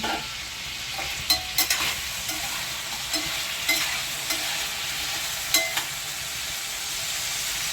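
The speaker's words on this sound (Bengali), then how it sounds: "আলু এখনও ভাজতে হবে" Potatoes fry in a pan with a steady hiss of oil as a spatula scrapes and knocks against the metal in scattered sharp clacks, close by and without voices.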